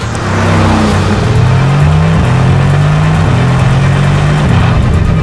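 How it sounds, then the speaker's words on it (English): A loud Mercedes-AMG GT R engine revs hard and close, its pitch rising and holding in a throaty, sustained roar. "And this car is so loud."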